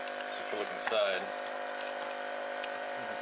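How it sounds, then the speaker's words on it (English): A modded battery aerator bubbling water in a CLAM bait bucket, a steady close gurgling hum with a motor drone underneath, briefly joined by a faint voice and some handling noise. "you can see that it's bubbling."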